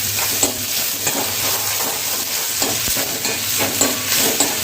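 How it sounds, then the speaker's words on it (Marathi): Chopped onion frying in oil in a home kitchen pan, a steady bright sizzle with occasional stirring scrapes, close and continuous with no talk. "चांगलं कांद्याला आता तेलामध्ये फ्राय करून घ्या"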